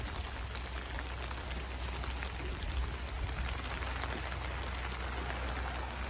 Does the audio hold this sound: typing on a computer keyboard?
no